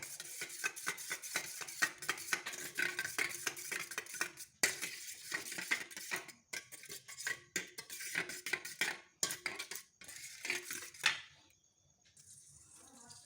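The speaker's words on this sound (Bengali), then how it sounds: "অল্প নুন দিলাম এবার এটাকে ঘুটে নেব" Spoon or whisk rapidly beating a cracked egg with a little salt in a bowl while making banana stem peel chips, a steady close clatter of metal on the bowl that stops abruptly near the end.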